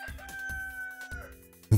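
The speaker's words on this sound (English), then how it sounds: "The Cockerel has announced our arrival." A rooster crows in the commuter-train management game Overcrowd, a single clear cock-a-doodle-doo drawn out over a second or so and ending in a sharp cluck-like burst.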